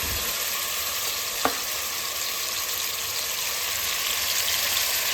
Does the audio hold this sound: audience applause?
no